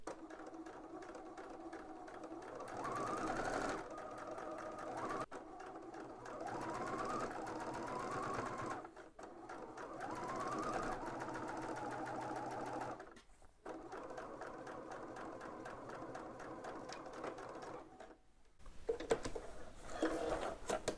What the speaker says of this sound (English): I folded the top in 1/2 inch and then another 1/2 inch. And now we are going to sew that down.